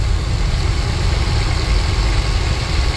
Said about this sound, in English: You actually got the motor on the camper running pretty well right now.